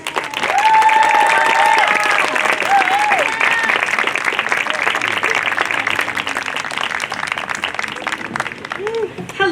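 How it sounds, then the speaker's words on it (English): At a California mental health awareness event, an audience breaks into loud, sustained applause, a thick wash of clapping with scattered whoops and voices rising over it, holding steady across the whole stretch. "let's give a big, big round of applause for Andrea Ambrose"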